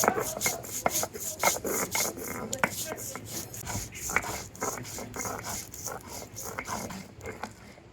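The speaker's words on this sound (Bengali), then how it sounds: "পোস্ত আর কাজু বাদাম বেটে নিয়েছি।" Poppy seeds and cashews are ground into a spice paste, a steady rhythmic rubbing and scraping of the stone close by, repeating strokes for several seconds with no talk.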